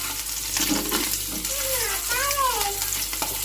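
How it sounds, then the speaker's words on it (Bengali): An egg fries in a pan just after fish was fried in it, a close steady sizzle with a few clatters and brief whistling tones over it. "ডিমটা ভাজতেছি"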